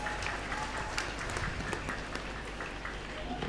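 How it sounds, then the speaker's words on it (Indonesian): A crowd applauds at an Islamic school's year-end graduation ceremony, a fairly faint, steady patter of clapping from many hands at some distance. "Tepuk tangan untuk Ma'had Ali Al-Iman."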